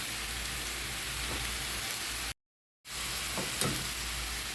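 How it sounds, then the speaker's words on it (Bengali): Ginger, garlic and onion paste sizzles steadily in hot oil with already browned onions for a spicy eel bhuna, a close, dense hiss broken by a brief gap of silence midway, and no voices. "আদা রসুন পেস্ট পেঁয়াজ বাটার সাথে ভেজে নিব"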